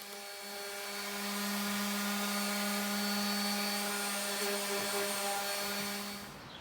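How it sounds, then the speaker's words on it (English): A power sander smooths rough-cut lumber boards for a tree house ladder, a steady droning whir with a strong hum running unbroken for several seconds before easing off at the end. "we're going to sand them all down just to get rid of some of the splinters"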